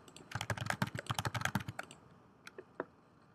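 Quick, light keystrokes on a computer keyboard as a password is entered, a dense burst of clicks in the first two seconds followed by a few scattered, isolated taps, quiet and close.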